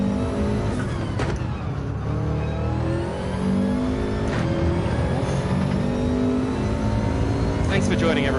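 Subaru Gr.4 race car lapping Brands Hatch GP in Gran Turismo 7, a steady loud engine drone with rising and falling revs through gear changes, heard continuously under someone talking.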